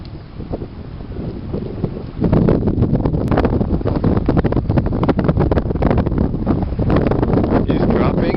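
Heavy wind buffets the microphone at a lakeside campsite where a person paddles a boat, a loud, rushing roar that swells after a couple of seconds and stays strong, with spoken voices faint beneath it.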